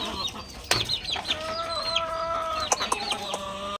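White kelso chickens near their freshly laid eggs, clucking steadily and close by in a busy, overlapping stream of short calls.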